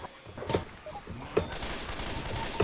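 Gunfire in Left 4 Dead 2 during the Blood Harvest campaign: several sharp shots spaced about a second apart, ringing out over a busy, noisy game background.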